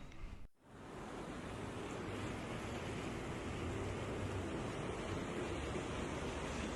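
Ocean waves wash in a steady, broad roar of surf, continuous and fairly even, with no voices, after a brief dip at the start.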